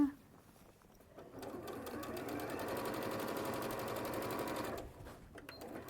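A sewing machine stitches a seam in a steady, fast run of needle strokes lasting several seconds, close and even, starting after a short pause and stopping abruptly near the end.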